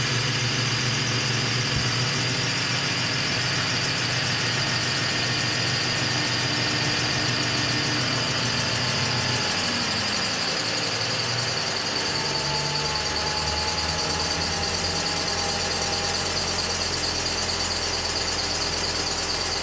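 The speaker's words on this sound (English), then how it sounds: "It's actually a belt squeaking." High-pitched belt squeal from the idling engine of a 2013 Lincoln MKX, a continuous whining chirp over a steady engine hum, heard up close with the engine tone shifting partway through.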